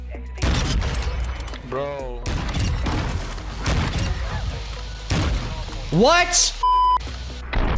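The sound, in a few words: MCPR-330 sniper rifle shots in a video game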